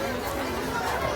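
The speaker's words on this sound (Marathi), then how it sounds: "जाम गर्दी आहे." Dense crowd chatter fills a busy pilgrimage venue at Shirdi, a constant murmur of many voices close around with no single speaker standing out.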